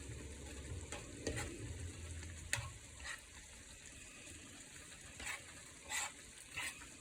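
Caramelized onions are stirred in a pan for shepherd's pie, giving faint, close scraping and a low sizzle, with several soft spoon knocks spaced unevenly and no voices.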